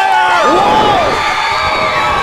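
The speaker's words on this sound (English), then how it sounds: "The crowd erupted for that one." Wrestling crowd roars and cheers after a crossbody in the ring, a loud, sustained burst of shouting and whoops filling the arena for a couple of seconds.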